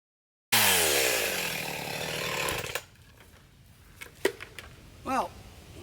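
A chainsaw drops through firewood logs held in a cradle, a loud close buzzing cut that eases off after a few seconds, followed by quieter revving and brief bursts as the saw is handled.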